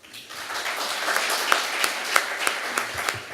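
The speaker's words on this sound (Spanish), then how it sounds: "Lo recibimos con un aplauso." An audience claps in applause to welcome a speaker at a talk on the right to the city and citizenship, a dense, sustained patter of many hands at moderate distance, with a few sharper individual claps standing out.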